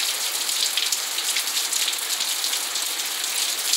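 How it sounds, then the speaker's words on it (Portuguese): Heavy rain falling at night in Joaquim Gomes, Alagoas, a steady, dense hiss of downpour that holds constant throughout with no pauses and no voices. "Muita chuva, no momento exato, muita chuva"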